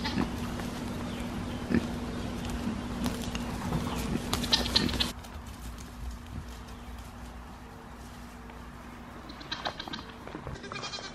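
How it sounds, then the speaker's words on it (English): Pigs being let out of their pen on a hot farm morning: grunting and snorting with clattering and rustling movement, loud at first, then quieter with scattered grunts and shuffling. "I might as well let the pigs out."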